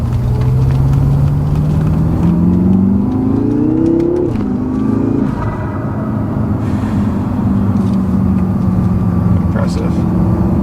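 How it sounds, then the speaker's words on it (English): Tuned 2016 BMW M5 with Dinan modifications accelerating on a road, a loud, steady engine and exhaust drone that rises in pitch, dips at a shift, then settles into a continuous cruising hum with faint speech beneath. "The exhaust sounds great, although I get a lot of hints of Subaru WRX."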